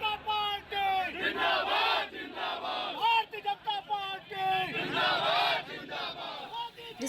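Protesters chant slogans against Rahul Gandhi in a dense crowd during his Raebareli visit, many voices shouting in rhythmic bursts, loud and continuous with traffic rumble beneath.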